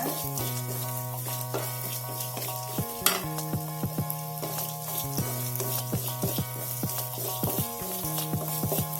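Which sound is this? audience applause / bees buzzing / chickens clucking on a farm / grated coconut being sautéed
grated coconut being sautéed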